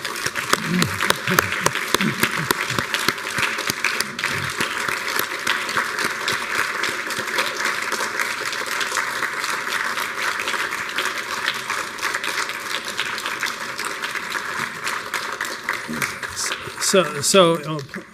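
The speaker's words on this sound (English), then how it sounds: "you can give them some applause again" Sustained applause from an audience at an award presentation, a dense and steady wash of clapping that carries on for many seconds and swells slightly near the end, with faint voices beneath.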